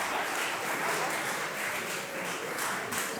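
An audience at a 2019 regional award ceremony in Eldoret applauds steadily, giving a dense, continuous wash of clapping for a few seconds.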